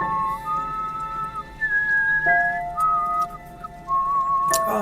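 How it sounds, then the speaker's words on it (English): A character whistles a tune in the fantasy role-playing game Enderal, with sustained melodic notes rising and falling over a low ambient game background and a sharp clatter near the end. "creepy father whistling behind me"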